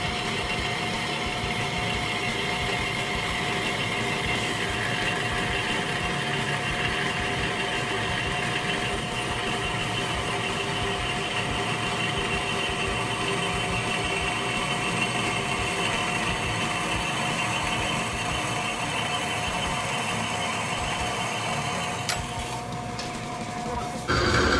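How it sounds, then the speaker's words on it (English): A bandsaw cutting channels into a machined part in a workshop, a steady continuous whine with a constant droning hum running throughout, fairly loud and unbroken until a brief change near the end. "we take the part to the bandsaw to start cutting out our channels"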